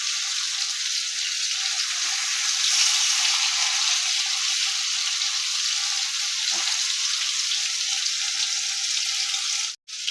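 Soft paneer pieces fry gently in hot oil in a pan, giving a steady, even sizzle that holds close and moderately loud throughout, with a brief dip near the end.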